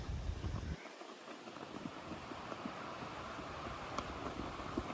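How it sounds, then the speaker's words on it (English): Strong cold wind blows across open Kansas country, buffeting the microphone with a steady rough roar and low gusty thumps. "It's freaking windy here"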